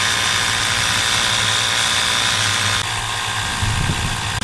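A small portable air compressor runs steadily while filling a tire, giving a loud, continuous motor drone with a rough low buzz that shifts slightly partway through.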